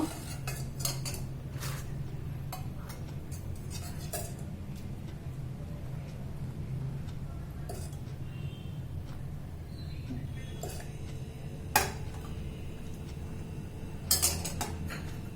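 Milk obbattu is stirred in a pot and served onto a plate, bringing soft scraping and clinking of a spoon against metal dishes. A few sharper clinks stand out over a low, steady background hum.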